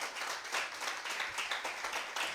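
A church congregation claps loudly in praise, a steady dense wash of many hands sustained throughout, with no voices rising above it.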